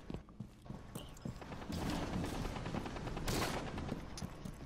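Rapid gunfire from the tactical shooter video game Rainbow Six Siege crackles in dense bursts with clattering impacts, building in intensity through the middle and staying loud and continuous without talk.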